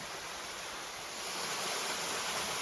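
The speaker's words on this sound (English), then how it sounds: "a little waterfall going down into this hole" A small waterfall draining from a low pond into a hole in the ground, a steady, dense rushing splash heard close up and continuously throughout, with no voices.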